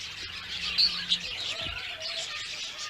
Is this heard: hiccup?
no